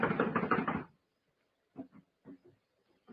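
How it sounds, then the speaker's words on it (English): Rapid knocking on a locked door opens the clip, a quick run of loud raps lasting under a second, followed by silence and then a few faint muffled sounds from behind the door. "I'm going to knock."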